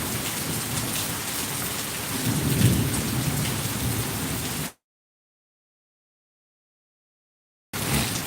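Steady, dense rain pours down close by with a constant hiss, cutting off abruptly to silence before resuming.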